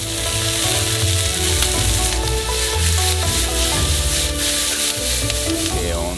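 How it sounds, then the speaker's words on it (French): Vegetables fry in a hot pan for noodles with a loud, continuous sizzle and some stirring scrapes, mixed with a steady tonal backing that sounds like music and no speech. "On y rajoute des légumes. On les fait frire pendant seulement 2 minutes au total."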